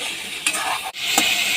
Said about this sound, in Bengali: চিংড়ি মাছগুলো হালকা ভেজে তুলে নেবো